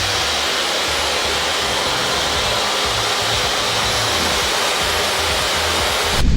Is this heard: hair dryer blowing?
yes